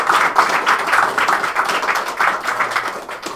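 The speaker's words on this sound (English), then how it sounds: "Just one more round of applause for Ed." An indoor crowd at a functional programming talk applauds the speaker: dense, steady clapping from many hands, fairly close, lasting a few seconds without speech over it.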